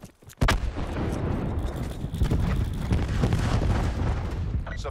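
A grenade blast and loud gunfire in Call of Duty Blackout, a sharp boom near the start followed by sustained, dense battle noise that continues to the end.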